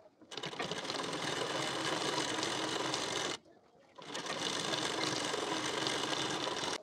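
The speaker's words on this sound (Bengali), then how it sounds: "নিয়ে ঠিক এখান থেকে পুরোটা সেলাই দিয়ে নিতে হবে" A sewing machine runs steadily while stitching the waistband band of a blouse, a loud continuous whir that stops briefly midway, then starts again and runs on to the end.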